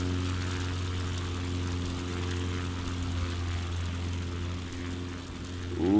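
Propeller airplane engine in Flight Simulator 2020, throttled way down: a steady droning hum with strong low tones, holding an even level before rising and swelling near the end.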